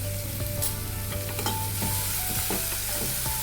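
Moringa leaves with ground chilli sautéing in a pan, a steady bright sizzle with scattered scrapes and taps of a spoon stirring, close and continuous with no talk.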